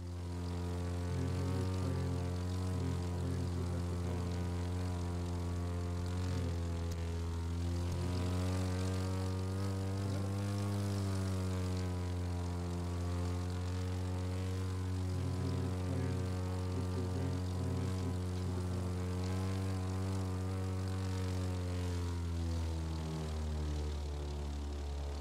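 Steady propeller-plane engine drone in The Crew 2, a continuous loud harmonic hum with slight pitch swells through the whole stretch, no talk over it.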